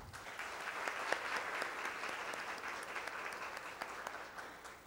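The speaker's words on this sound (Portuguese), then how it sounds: "peço que vocês saudem com uma salva de palmas" An audience applauds a Pernambuco Court of Justice choir at a formal session, with dense, steady clapping from a crowd heard at moderate distance.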